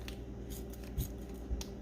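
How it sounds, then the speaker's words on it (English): Scissors snip the corner off a plastic bag of keto frosty mix, two quick close cuts over a faint background hum. "we are just gonna take a pair of scissors and cut the corner off of this"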